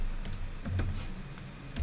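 A few soft keystrokes tap on a computer keyboard, quiet and close, in an otherwise hushed room.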